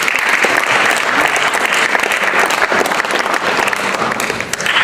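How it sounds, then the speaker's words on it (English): A high school debate audience bursts into dense, loud applause, a continuous wash of many hands clapping that holds steady for the whole stretch with no voices standing out. "let's save the applause for the end of the debate"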